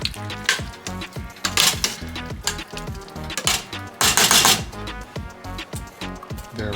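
A spoon stirs pork chile verde in a pot, with repeated close scraping and knocking strokes in an uneven rhythm over a soft simmering sizzle.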